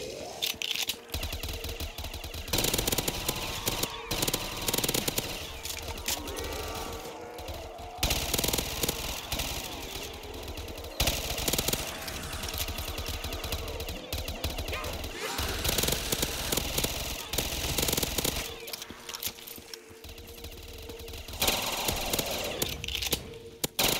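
Rapid gunfire from a starter pistol in a zombies video game, repeated sharp bursts mixed with other game noise and chaotic effects, with a player talking over it.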